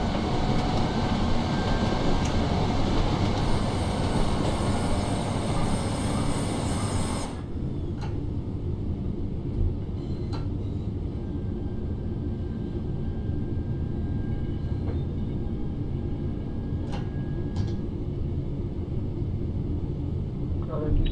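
In Train Sim World 4, a Class 323 electric train runs at about 45 km/h, its traction motors giving a continuous low rumble and whine. A harsher layer drops away after several seconds, leaving a steadier hum with occasional faint clicks and a voice talking over it.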